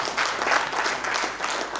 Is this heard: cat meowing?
no